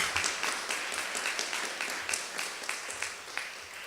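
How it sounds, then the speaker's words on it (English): Crowd applause at a bill-signing ceremony for automatic voter registration legislation: a steady, fairly quiet wash of many hands clapping, with individual sharper claps poking through, lasting the whole stretch without talk. "Somebody clap."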